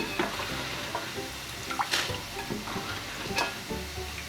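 Vegetables fry in hot oil for a vegetable dum biryani, giving a steady close sizzle broken by light scraping and stirring clinks from a spoon in the pan.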